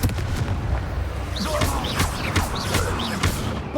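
Confringo fire spell blasting in the Hogwarts Legacy video game, a run of booming impacts and pops with whooshing bursts repeating every half second or so amid battle noise, with voices faintly underneath.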